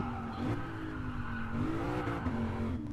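A Lexus RC-F slides with its tires squealing, a loud, steady, close engine drone under a wavering high whine, with no talking.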